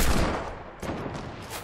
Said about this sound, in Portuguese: eu tô escutando tiro